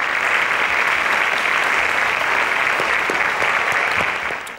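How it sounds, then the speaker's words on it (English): An audience at a televised senior competition show gives a steady, dense round of applause, loud and continuous before fading slightly at the end. "please, a round of applause."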